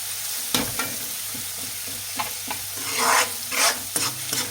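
Boti curry cooking in a pan, with stirring scrapes and soft sizzling frying, a few distinct stir strokes and a brief louder sizzle burst near the middle, no voices.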